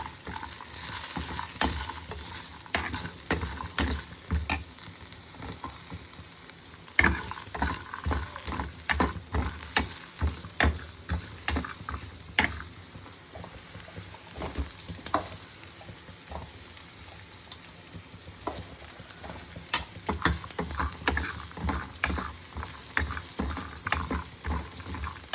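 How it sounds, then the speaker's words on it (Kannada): Mustard seeds spluttering and raw banana frying in a pan for a raw banana sabji, a steady close sizzle with many sharp crackling pops scattered throughout, alone with no talk. "ಸಾಸಿವೆ ಕಾಳು ಹಾಕಿ ಚಿಟಪಿಟ ಅಂದಮೇಲೆ ಬಾಳೆಕಾಯಿ ಹಾಕಬೇಕು"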